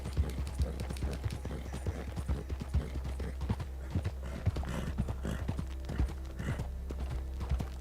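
Horse hooves clip-clop steadily through the Red Dead game world, a quick repeating rhythm of sharp close taps over a constant low rumble, with no voices.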